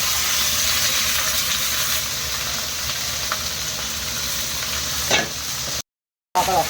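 Beet, carrot, radish and potato in a pan with fried onions, giving a steady moderate sizzle with light stirring, a short clack near the end, then a brief silence.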